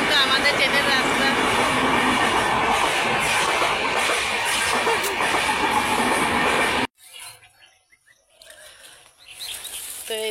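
A Dhaka-bound train rolls past right beside a house, a loud, close rumble and rattle lasting about seven seconds before cutting off abruptly to quiet outdoor ambience with faint birds.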